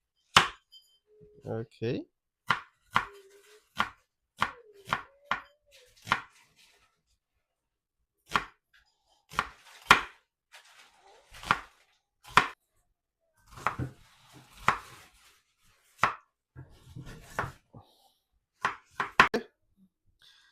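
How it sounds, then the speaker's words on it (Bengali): A knife chops an onion on a kitchen surface, giving a run of sharp, irregular close-up thuds with short pauses, while a voice speaks briefly between the cuts. "পেঁয়াজটা কেটে নিচ্ছে, দেখেন।"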